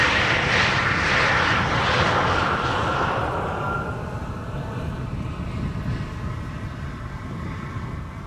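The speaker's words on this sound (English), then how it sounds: "737-800 arriving from Bergen up first." A KLM Boeing 737-800 arriving from Bergen at Amsterdam Schiphol roars loudly as it passes close by, the broad jet noise fading into a lower, steady engine rumble as it moves away.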